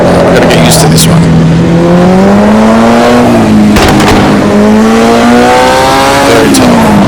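Formula Junior race car in Automobilista 2, its engine revving loud and close, pitch climbing through gears and dropping on shifts in repeated sweeps, with a voice talking over it.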